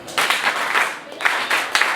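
Audience in a debate hall gives a standardized clap, several rhythmic bursts of hand clapping from a group, fairly close and steady, with short pauses between groups of claps.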